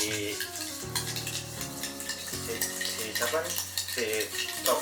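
Coffee, sugar and water are whisked for dalgona, a quick run of rhythmic scraping and clinking strokes in a bowl over a steady tonal background.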